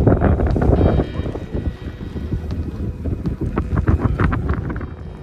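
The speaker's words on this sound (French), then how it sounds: "Le vent vient un peu de par là." Strong wind buffets and rumbles aboard a sailboat, with gusty low roaring and flapping, loud and close, no voices.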